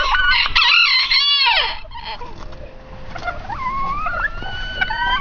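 A rooster crows loudly and close up, followed by more calls and clucking from nearby fowl.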